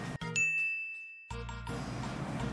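One strike on a handmade bell gives a clear, bright ding that rings and fades for about a second. A rougher clatter and noise follow.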